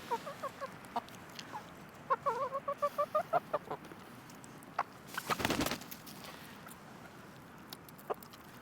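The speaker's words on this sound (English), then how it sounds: "someone like Jay right here, she lays all winter long" Egg-laying hens cluck nearby in quick rhythmic bursts of short calls, with a brief louder rustle midway and scattered single clucks afterward, no talking.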